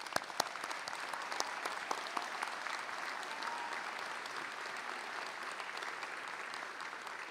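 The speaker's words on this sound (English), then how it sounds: "Let's give the graduates a round of applause." An audience claps steadily for college graduates at a ceremony, a dense, even wash of many hands that holds at the same level throughout, with a few sharper individual claps standing out near the start.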